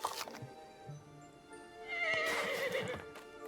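A horse in a farming video game whinnies in a long, clear neigh after a few soft hoof clops, with a quiet stretch before the call.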